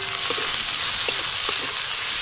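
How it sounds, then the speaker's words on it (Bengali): Whole cumin seeds and chopped onion sizzle loudly in hot oil, a dense continuous hiss with a few faint clinks of a spatula, close up and with no talk. "ফোড়নে আমি গোটা জিরে দেব, গোটা জিরে, পেঁয়াজ কুচি।"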